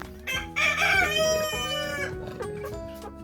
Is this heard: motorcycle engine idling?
no